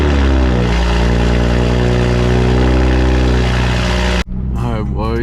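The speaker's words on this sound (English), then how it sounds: "First official cold start with the wing on." A brand new Toyota Supra fitted with a rear wing cold-starts. A loud, steady engine drone holds for about four seconds, then cuts off abruptly before a short burst of other sound.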